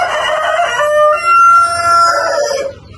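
A rooster crows loudly in a long, rising and falling call while chickens cluck nearby, close up in a poultry coop full of young laying hens, with no one talking.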